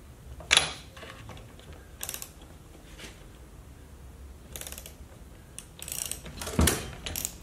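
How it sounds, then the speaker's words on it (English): A ratchet wrench being worked while a spark plug is removed from a two-stroke motor: a few separate bursts of close, clicking mechanical ratcheting over a quiet background, with gaps between them. "you're going to pull out your spark plug"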